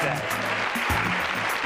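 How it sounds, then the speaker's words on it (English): An audience at a training event gives itself a round of applause, a short, fairly soft patter of many hands mixed with a low murmur of voices. "Give yourselves a round of applause"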